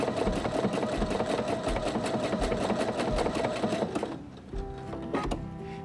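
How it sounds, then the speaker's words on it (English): A Pfaff computerized sewing machine stitches a buttonhole with a steady, fast mechanical whirr and rhythmic needle clatter, close and even, then stops and gives a few lighter clicks and motor hums at the end. "the machine's going to go back first and then come forward and stitch the other side of the buttonhole"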